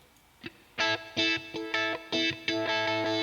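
Distorted electric guitar strikes a repeated chord in a steady chugging rhythm, with a swirling flanger sweep coloring each hit; loud and close, no voices.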